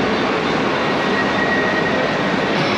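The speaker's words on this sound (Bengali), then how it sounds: "এই ট্রেনটা চার্চগেট যাবে" A Mumbai local train passes through a station with a loud, steady roar of wheels and carriages that fills the whole stretch, plus a faint high whine running through it.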